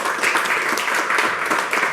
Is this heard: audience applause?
yes